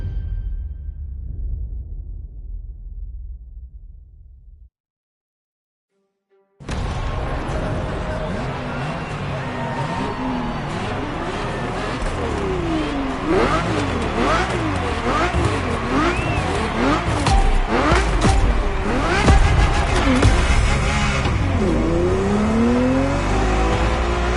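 Ferrari F50 engine driving in The Crew Motorfest on PS5, a loud sustained roar with rising and falling revs through gear changes after a brief silent gap, alongside tire noise and faint speech.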